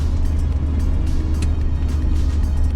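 Steady low rumble of a 1986 Pontiac Trans Am with an LTX engine swap driving along, heard from inside the cabin as a loud, continuous engine and road drone without talk.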